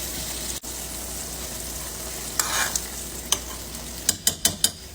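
Homemade spaghetti sauce in a pot on medium heat gives a soft, even frying hiss, punctuated near the end by a quick run of sharp spoon taps on the pot rim.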